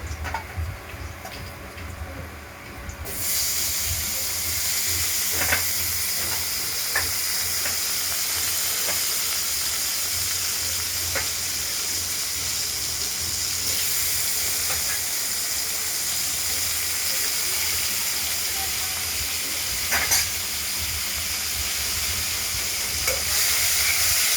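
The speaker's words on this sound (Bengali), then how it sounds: "কালো জিরে, তেজপাতা, শুকনো লঙ্কা ফোড়ন, তেলও দিয়ে দেওয়া হলো। এবার আলুগুলো ছেড়ে দেবো।" Potatoes frying in hot oil tempered with black cumin, bay leaf and dried red chilli, a steady loud sizzle filling the whole stretch with occasional clinks and scrapes of stirring, no voices.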